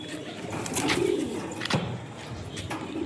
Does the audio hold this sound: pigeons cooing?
yes